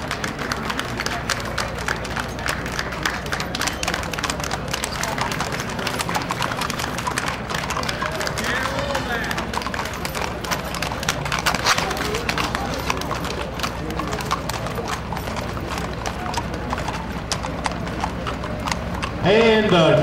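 Hooves of a horse-drawn Wells Fargo stagecoach clip-clop steadily through an Old West Days parade, a continuous rhythmic clatter over crowd noise and a public-address voice.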